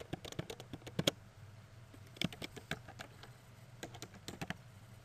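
Quiet clatter of typing on a computer keyboard during spreadsheet work, bursts of light key taps with short pauses between, close and soft.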